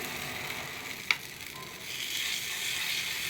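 Oats appe batter frying in ghee in an appe pan gives a steady, soft sizzle throughout, with one brief sharp crackle early on and the hiss swelling slightly toward the end; no one talks.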